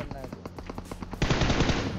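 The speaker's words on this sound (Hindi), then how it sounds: "और भाई साहब इनने करा फायर" Gunfire in a mobile battle royale game: a rapid burst of automatic shots in steady rhythm, followed by a denser, louder volley of fire at close range.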